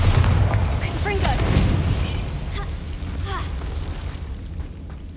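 Bombarda and Confringo explosion spells go off in Hogwarts Legacy, booming blasts with rumbling low-end aftermath and scattered crackling debris, fairly loud and then fading into a lingering rumble.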